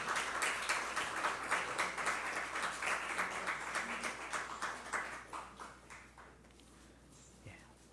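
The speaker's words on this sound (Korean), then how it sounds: "다시 한번 우리 축하의 박수 한번 부탁드리겠습니다" A church congregation applauds during a Sunday worship service, a steady, fairly loud wash of clapping that gradually thins and fades away toward the end.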